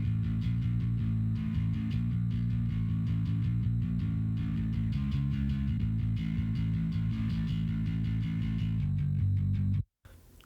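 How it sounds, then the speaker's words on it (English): Bass guitar low channel run through a Darkglass Vintage Ultra plugin, a steady dense low-end tone with subdued highs, played loud and continuously alone before cutting off abruptly. "So you're not hearing a lot of anything apart from just bass and proper low end there."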